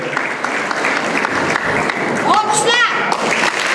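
Audience applause at an awards ceremony in Olot district, Bukhara, steady clapping throughout with a brief whistle-like tone partway through.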